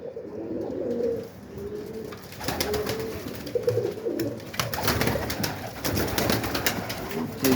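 Pigeons coo in repeated low, throaty bursts close by, interrupted by wing flaps and rustling in an enclosure.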